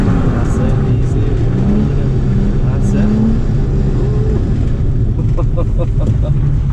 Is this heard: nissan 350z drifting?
yes